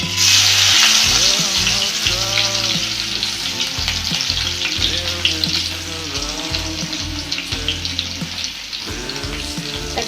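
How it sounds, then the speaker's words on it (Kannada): Crushed garlic fries in hot oil, a loud, bright sizzle that stays dense for the whole stretch, with occasional stirring clinks and low background tones. "ಇದ್ರಾಗ ಆಯಿಲ್ ಈಗ ಕಾದಿದ್ರಿ. ಇದ್ರಾಗ 2 ಬೆಳ್ಳುಳ್ಳಿ ಜಜ್ಜಿಟ್ಕೊಂಡೇನು ನೋಡಿರಿ"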